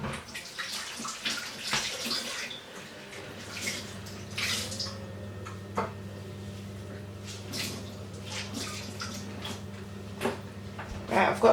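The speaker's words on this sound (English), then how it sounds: "I'm just going to rinse off my hands and then come back." Running tap water splashes steadily as hands are rinsed, with some squishy rubbing and small clinks, fairly close, no talking.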